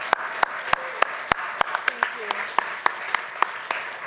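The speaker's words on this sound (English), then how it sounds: "So please give us a round of applause for Anna." Scattered claps at an AIA Idaho awards dinner, moderately faint, for an organizer named Anna. The claps are sparse and evenly spaced, with a murmur of voices beneath them.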